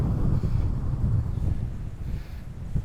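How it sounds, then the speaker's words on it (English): Strong wind buffets an open hilltop at French Pass (Franse Pas) in Aruba, a steady, loud low roar rushing over the microphone with no letup. "As you can imagine, it's extremely windy up here."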